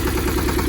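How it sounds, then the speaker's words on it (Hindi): A tractor engine idles just after starting, a loud, close, steady low rumble with an even chugging pulse throughout the brief moment. "ट्रैक्टर अभी चालू हो गया।"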